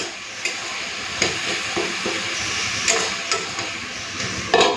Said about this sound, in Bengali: এটা একটুখানি নেড়ে চেড়ে ঢাকা দিয়ে দিই